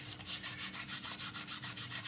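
1200-grit sandpaper rubbed against a 3D-printed piece in quick, even back-and-forth strokes, about a dozen rasping passes close up with no voices.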